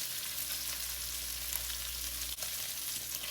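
Lamb pieces fry in a little oil in a pot, giving a steady close sizzle with occasional stirring and no talk.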